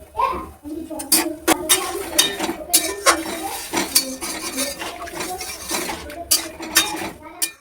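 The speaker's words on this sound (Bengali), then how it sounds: "উঠিয়ে নিচ্ছি ঢাকনাটা, এবার ঢেকে দিচ্ছি" A lid is lifted off a pan of vegetables cooking with salt, turmeric and water, then set back on, giving close metallic clinks and clatters mixed with rattling, while someone talks over it.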